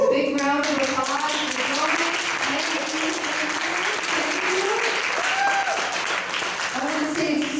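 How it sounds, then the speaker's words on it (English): Audience at a public dignity workshop event giving the presenters a sustained round of applause, steady dense clapping throughout with a few voices underneath. "So please give our presenters a big round of applause."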